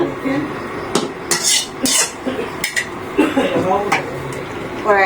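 Chicken being cooked in a metal pot, with loud clanking and scraping of a utensil against the pot in irregular bursts, plus a few sharp clinks close by.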